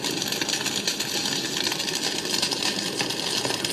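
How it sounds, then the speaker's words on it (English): Steady hiss of rain-like white noise from an AIBORS white noise sound machine's thunderstorm setting, with a dense crackling texture, continuous and fairly loud, no distinct thunder claps standing out. "Oh boy, it's a thunderstorm."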